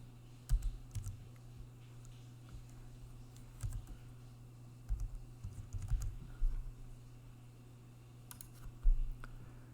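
Fingers type on a computer keyboard in short irregular bursts of clicks and taps, close and fairly quiet over a steady low electrical hum, with no speech.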